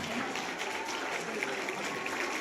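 A college audience of students in Dinanagar gives steady, dense applause, a continuous wash of clapping throughout.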